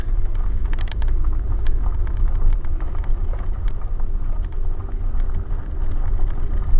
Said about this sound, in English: And there's the car coming towards us.